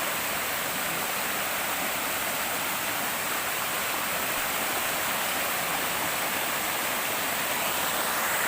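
The rushing water of Busay Waterfalls pours in a loud, unbroken roar of white noise that stays steady throughout, with no voices.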